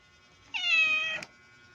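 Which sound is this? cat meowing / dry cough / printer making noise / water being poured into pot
cat meowing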